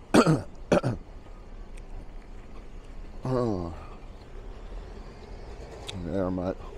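A man out walking along a high street on a cold day clears his throat several times in short rough bursts, close to the mic, with faint street noise behind.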